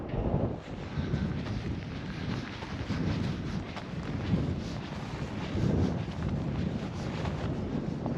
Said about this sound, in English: a bit breezy, which you can probably hear on the microphone